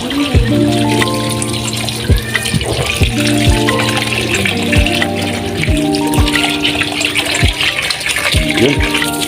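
Rinse water being changed in a cooking pot gushes and splashes loudly and steadily, with a voice talking over it and clinks of metal throughout.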